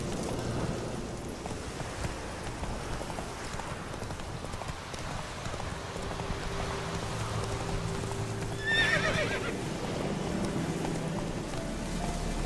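A horse gallops with steady rhythmic clip-clop hoofbeats in The Witcher 3, rain patter in the background and a brief whinny near the end.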